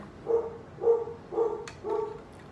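A dog barks four times at an even, steady pace somewhere in another room of a house, each bark muffled and moderately faint, with quiet between them.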